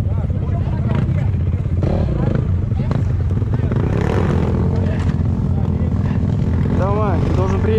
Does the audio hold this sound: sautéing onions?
no